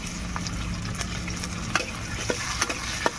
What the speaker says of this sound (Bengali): আমার ফোড়নটা ভালোভাবে ভাজা হয়ে গিয়েছে। এবার দিয়ে দেবো টমেটো কুচি